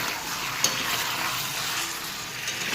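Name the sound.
chicken frying in a pan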